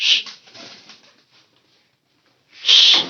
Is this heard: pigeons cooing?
yes